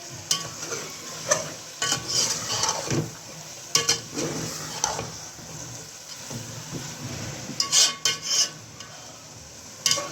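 Peas and mixed vegetables are stir-roasted in a pan for desi-style sabzi, with a steady sizzle under continuous scraping and rasping stirs and occasional sharper clatters of the spoon on the pan, close and fairly loud.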